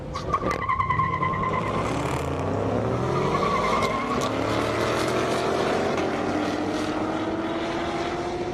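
Engine roar from a Ford Mustang and a Chevrolet Corvette drag racing side by side on an airstrip, loud and continuous with rising pitch sweeps as they accelerate and pass, and no talk.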